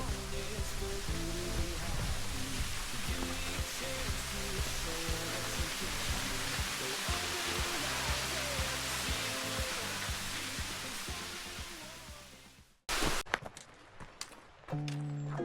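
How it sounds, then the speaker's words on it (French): Loud, steady rushing roar of a waterfall on the GR58 trail in the Queyras filling the air, then cutting abruptly near the end to quieter shuffling and knocks. "Et on arrive à la cascade."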